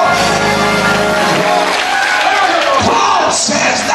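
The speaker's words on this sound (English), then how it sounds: "Clap your hands and say yes, Lord." A church congregation claps and shouts during a sermon, a loud, dense wash of crowd noise with cheering voices running steadily throughout.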